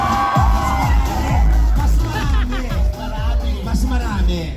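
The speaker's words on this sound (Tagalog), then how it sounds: "Magpalakpakan po na may kasamang hiyaw" A live audience at a stage show claps and cheers with loud whoops and shouts, a dense, close roar of rhythmic applause and voices throughout.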